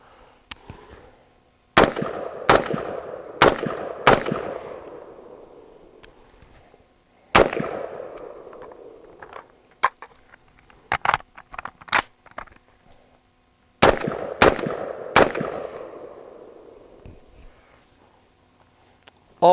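A Daniel Defense DDM4V7 pistol fires in loud, sharp cracks, first as several evenly spaced single shots, then as quick clusters, each report decaying briefly outdoors.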